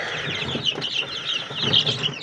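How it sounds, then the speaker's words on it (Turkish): A single sick chicken with a slight sneeze makes soft, low clucking sounds close by, steady and quiet for a couple of seconds. "Burada bir tane hasta tavuğumuz var."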